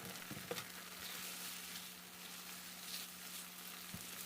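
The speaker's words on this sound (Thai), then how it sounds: "ผัดกากหมูให้กระจายเข้ากันกับน้ำพริกจนทั่ว" Crispy pork rinds stir-fried into chili paste, a soft, faint steady sizzle with a few light scraping knocks from stirring and a low background hum.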